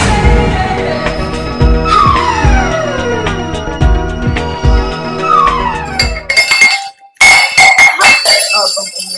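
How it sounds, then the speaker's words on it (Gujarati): A glass falls and crashes with loud ringing clinks and clattering that jangle and bounce over several seconds, then break off into a short pause and a final scatter of rattles. The setting is an indoor comedy-serial scene. "ગ્લાસ પડી ગયો."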